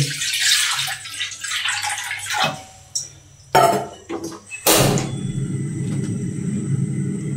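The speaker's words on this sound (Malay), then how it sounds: "Mula-mula kita buang air dulu." Water poured out of a pot while cooking vegetables: gushing splashes in bursts, broken by short pauses and a couple of sharp clanks, then a steady running rush, close and loud.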